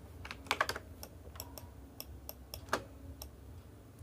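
Keys tapped on a computer keyboard during photo editing work, sparse quiet clicks with a few sharper louder strikes, heard alone against faint room hiss.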